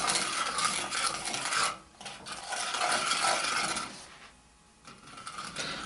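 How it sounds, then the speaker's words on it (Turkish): A spoon scrapes and swirls around a pot of cake ingredients before heating, in continuous rasping strokes, pausing briefly twice before carrying on. "Bunları iyice karıştırıyoruz."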